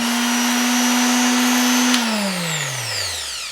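A TopShark electric detail sander whirs loudly at a constant pitch, then winds down as it's switched off, the hum sliding lower and fading.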